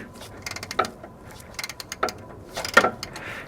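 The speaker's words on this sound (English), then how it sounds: "I'm just going to come in here with a 1/2-inch ratchet now instead of that breaker bar" A 1/2-inch ratchet loosens an oil cooler line fitting on a GM 6.5L diesel engine, giving several short, close bursts of clicking and metallic creaks.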